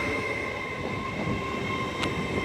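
An LNER Azuma train on the King's Cross to York service, seen at Newark Northgate on the East Coast Main Line, gives a steady rolling rumble with faint tonal whine and a brief high squeal near the end.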